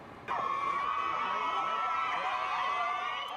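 Large crowds in Cape Town cheering for Harry and Meghan, a loud sustained roar of shouts and screams that swells in suddenly and holds steady, with scattered chatter mixed in.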